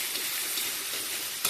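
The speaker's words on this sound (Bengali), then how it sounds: "আলুটা হালকা ফ্রাই হয়ে এসেছে" Potatoes frying lightly in a pan for ghugni, a steady close sizzle with a brief bump near the end and no talk.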